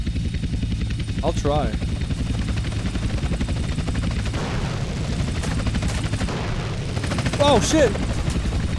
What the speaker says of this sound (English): Two agency choppers coming in on an intercept.